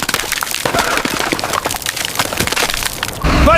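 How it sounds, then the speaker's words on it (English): Rapid crackling and splintering of a wooden bridge breaking in a video game, a dense burst of cracks and snaps, ending in a sharper jolt. "Bridge is breaking."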